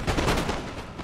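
Musket volleys crack out in the Empire: Total War video game in a quick run of overlapping shots. The gunfire sounds close and loud.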